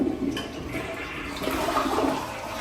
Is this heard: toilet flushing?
yes